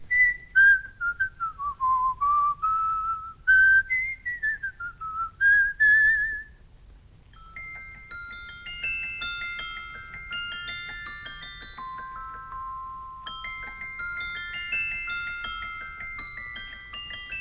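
A sliding, whistle-like tune comes first, then a music box plinks a delicate, tinkling melody of bright high notes, steady and moderately quiet.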